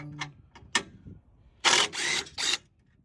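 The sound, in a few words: loosening bolts on a 2023 Jeep Gladiator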